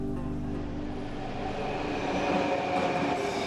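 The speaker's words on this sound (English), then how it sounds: "I hope that's our train. It's going quick." Train rushing past at speed at an Austrian station near Bludenz, with a loud, sustained rolling roar and faint wheel squeal throughout.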